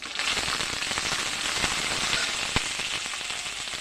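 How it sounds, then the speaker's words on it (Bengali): Shrimp frying in hot oil with a tempering of green chilies and bay leaf, a dense steady crackling sizzle with scattered sharp pops throughout. "এর ভিতরে আমি কিছুটা চিংড়ি মাছ দিয়ে দিলাম।"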